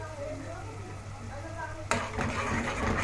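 Spices toasting in a pan while being cooked with rice and onion, giving a soft sizzle under someone speaking that jumps to a louder, brighter hiss and crackle partway through as the spices hit the heat.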